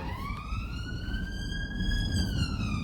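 A siren sound effect with a single slow rising and falling wail in tones like a police siren, loud and steady throughout over a low rumbling background, with no talk.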